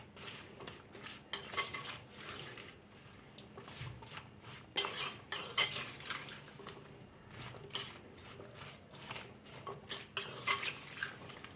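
Vegetables and water being stirred in a pot while cooking Kerala koottucurry, giving repeated scraping and clinking of a utensil against the pot with soft sloshing, steady and close, with no talking.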